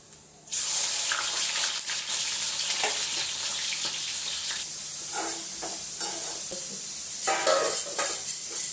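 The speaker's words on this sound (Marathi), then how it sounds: "भाजी फोडणी देऊन झाकून ठेवून दिली" Steady, loud sizzling of food frying in hot oil fills the whole clip, with occasional crackles and pops after a brief quiet start.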